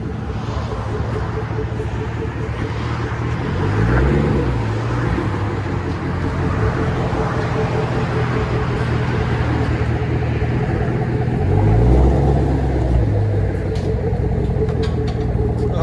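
A Chevy Camaro SS with a 6.2L LS V8 idles on straight pipes, its mufflers cut off, giving a deep, loping low rumble with occasional revs swelling up, close by and loud, with some voices around it.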